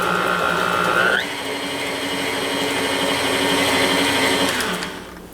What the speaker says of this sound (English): Now restart your mixer slowly so that the flour and baking powder don't go everywhere